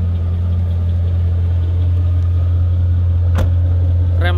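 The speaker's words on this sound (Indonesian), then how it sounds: "Mufflernya udah di custom ya, makanya suaranya gahar banget kiri kanan." Steady, loud, low rumble of a 2002 Holden VU Ute SS V8 idling through a custom muffler, constant and close, with a faint click partway through.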